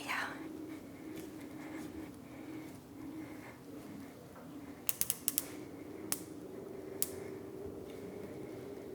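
The flywheel of a Diamondback 1260sc studio exercise bike spins under high resistance, producing a low, steady whirring hum, with a few sharp mechanical clicks near the end.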